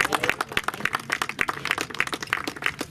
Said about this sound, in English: Give a big round of applause for that.